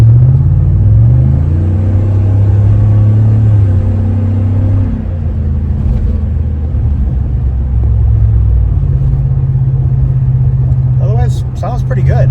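A 6.6L L8T truck fitted with a Black Widow exhaust accelerates hard, its deep rumbling note climbing through gear changes, heard from inside the cab with a voice briefly speaking near the end.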